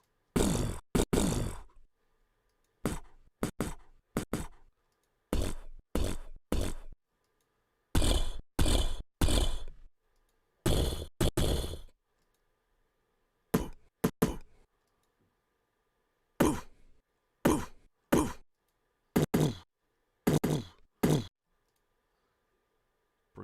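Short punchy kick drum hits made with the mouth, played in separate groups of quick thumps with silences between them.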